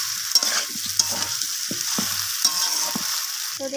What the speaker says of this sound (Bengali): তো আবারও কষিয়ে নিচ্ছি আমি।